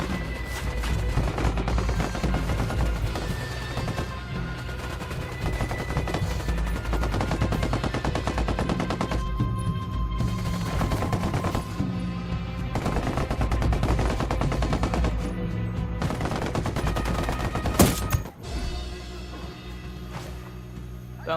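Sustained automatic gunfire in the video game Ghost Recon Wildlands: dense, rapid bursts run almost nonstop at steady loudness, with a sharp louder crack near the end followed by a slightly quieter tail.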